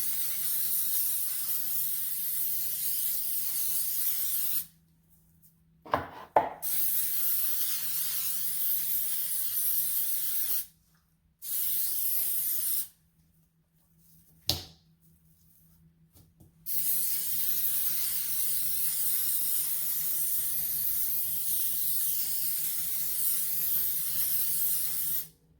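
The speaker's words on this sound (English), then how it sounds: "So I basically just spray on the oil." Cooking oil sprays onto beef ribs in a steady, close hiss, broken by a few pauses and short clicks from the sprayer, then resuming for a long continuous burst.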